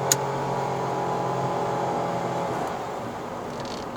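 Engine of a 2021 Nissan Almera 1.0 Turbo holding steady high revs on a mountain climb, a continuous droning whir from inside the cabin that eases slightly toward the end.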